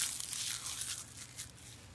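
A dry fallen tree leaf is crushed in a hand, making a faint, crisp crackle and rustle of breaking fragments close by. There is no talking.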